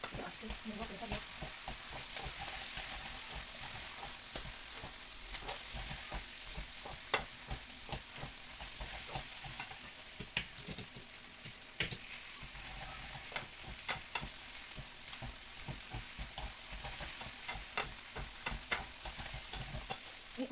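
Noodles with beef and shrimp being stir-fried in a hot pan, a steady loud sizzle with constant scraping and tossing clatter from the stirring utensil, continuing without pause.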